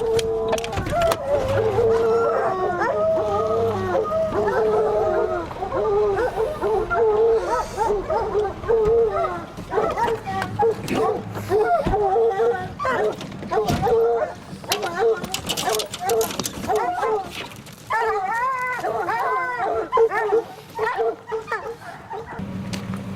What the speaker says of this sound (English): He could hear the dogs, but he couldn't see it.